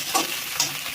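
Dried fish, garlic and green chillies stirred in hot oil, a steady broadband sizzle with two brief scraping stir strokes rising above it, close and fairly loud, no voices.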